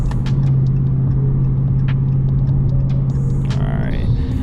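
Tuned Dodge Charger running on 93 octane, engine droning steadily in third gear after a downshift, a loud constant low rumble heard from inside the cabin, with faint clicks and a brief higher whine near the end.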